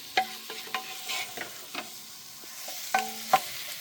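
Meat cooking in a pan with canned mushrooms on a camping-car stove: bright utensil clinks and scrapes over a quiet, steady sizzle, close up.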